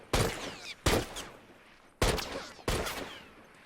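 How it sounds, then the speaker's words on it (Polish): Four loud bursts of gunfire from The Last of Us multiplayer, sharp cracks each followed by a short rolling echo, spaced unevenly with no talking. "zobaczcie w jaki sposób unikać strzałów przeciwnika"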